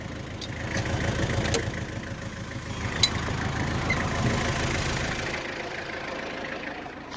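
A Woods mower tractor engine idles steadily at low speed on a farm field, a continuous mid-to-low rumble heard close up with one brief click partway through and no talking.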